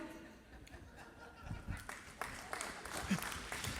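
Scattered clapping from an audience with some chuckling and voices mixed in, starting quietly and building into a few louder claps toward the end.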